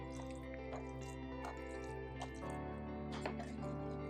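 Wet worm compost is scooped from a worm composting bin into another container: soft, scattered squelchy scrapes over a steady background hum, with no voices.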